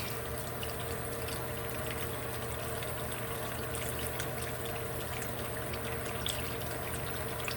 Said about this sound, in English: Let me wash off my brush.